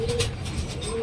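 Racing pigeons coo close by in a loft, giving soft repeated throaty calls, with someone talking faintly underneath.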